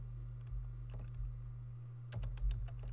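Code being typed on a computer keyboard, faint scattered keystrokes in a few short bursts over a steady low electrical hum.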